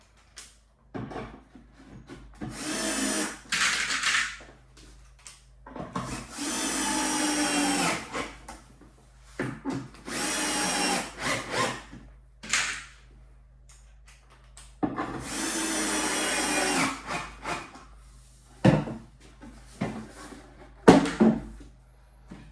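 Cordless power screwdriver driving confirmat screws through a side panel while assembling a Safari table, in several loud whirring bursts of a few seconds each, separated by quiet pauses with small knocks and handling of wood.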